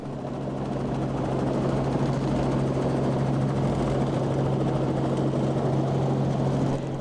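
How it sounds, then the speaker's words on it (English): Helicopter flying over the Hunter Valley in New South Wales, a steady loud rotor drone with a strong low hum that holds evenly throughout, with no talking. "we take an exciting helicopter trip across the Hunter Valley"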